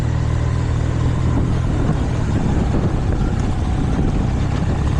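A 1983 Honda CM450E Scrambler motorcycle rides slowly along a dirt road, its engine giving a steady, loud low drone mixed with constant wind rumble throughout, with no speech heard.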